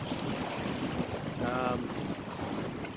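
A sailboat motors along on a reach across open water, with steady wind buffeting the microphone, hull wash and water rushing past throughout, and a brief faint tonal hum near the middle.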